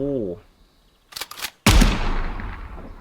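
A shotgun fires in Gunsmith Simulator at a 100-metre range: a single sharp, loud blast follows a brief burst of clicks and handling noise, then a long fading tail, with a short tone at the start.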